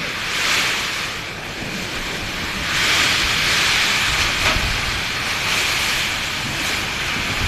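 Strong wind gusting ahead of an approaching typhoon, a broad roaring rush that swells and eases in waves, loud and close to the microphone with buffeting, no voices.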